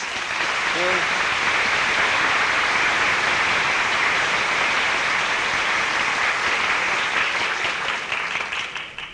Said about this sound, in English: give Mr. Hugh Manus, attorney, a very nice round of applause